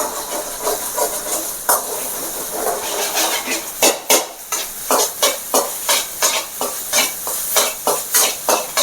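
Eggs sizzle in an oiled pan while being stirred. A steady hiss of frying sits under quick scraping strokes that settle into an even, repeated rhythm toward the end, with no speech.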